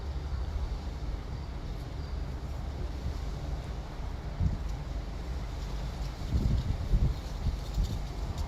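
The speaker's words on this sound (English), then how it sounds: "of course the wind is blowing at the same time, so it's a little bit chilly" Wind blowing across an open, chilly hilltop outdoors, a steady low rumble with buffeting gusts hitting the microphone, strongest near the end, no voices heard.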